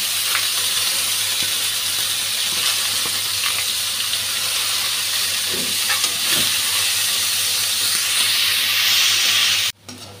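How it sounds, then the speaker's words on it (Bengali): Sliced onion and green chili sizzling hard in hot oil with bay leaf, a loud, steady hiss close by that holds evenly for about ten seconds before cutting off abruptly. "এখন পেঁয়াজ কাঁচা লঙ্কাটা দিয়ে দিচ্ছি।"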